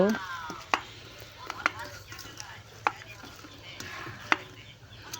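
Mashed red lentil bhorta mixed by hand with oil and salt, with a series of sharp taps and knocks against the bowl and a soft background hum.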